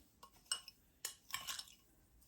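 Utensil clinks against a bowl while onion soup mix and Italian seasoning are stirred together, a few quiet scraping taps and clicks in short bursts.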